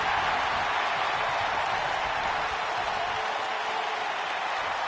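A capacity crowd at a professional wrestling championship match in an arena roars continuously in a dense, steady wash of cheering and applause, loud and unbroken throughout.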